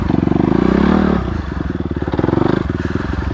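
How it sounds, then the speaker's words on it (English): A 2020 Honda CRF250RX dirt bike crawls over rocky ground in first gear at idle, no clutch, its single-cylinder engine thumping in a fast, steady pulse up close, with the exhaust beat shifting slightly in pitch. "first gear, kind of idle speed, no clutch. The bike goes."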